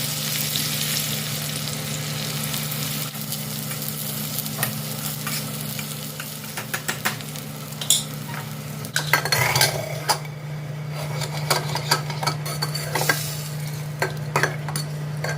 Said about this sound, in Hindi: हरा लहसुन, हरी मिर्च, जीरा और देसी घी का तड़का मैंने दाल में लगा दिया है